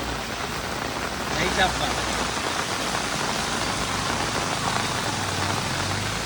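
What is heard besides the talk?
heavy rain in a village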